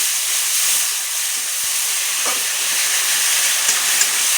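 Garlic paste and spices fry in a pan with a steady, close, bright sizzling hiss that holds evenly throughout.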